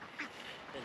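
Six-week-old ducks quack softly over a steady outdoor background, a couple of faint, short calls close together.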